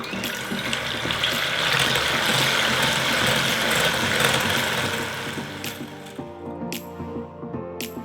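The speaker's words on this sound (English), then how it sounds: "using a hand mixer or a stand mixer, just whisk until foamy and then slowly adding the sugar a little bit at a time" Electric hand mixer whisking egg whites and sugar into meringue for pistachio amaretti, a steady whirring buzz with rattling beater clatter against the bowl, close and continuous before winding down near the end.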